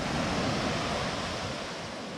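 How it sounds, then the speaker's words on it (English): Steady, broad rush of ocean waves swelling at the shore of Playa Bonita beach in Costa Rica at low tide, a continuous close roar with no voices. "Now the water does swell pretty good right here at the shore"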